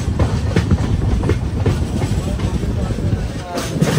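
Devagiri Express rolling into Dharmabad station in Maharashtra, continuous near rumble with rhythmic clickety-clack of wheels over rail joints and a faint squeal.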